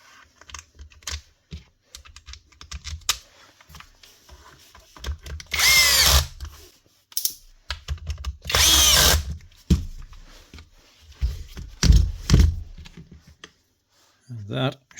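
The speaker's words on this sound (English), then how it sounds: "And that should be this Bosch running right again." A Bosch GBH 36VF-LI cordless 36V SDS hammer drill runs in several short bursts with clicks and handling noise between them, loud and close, alongside some talk.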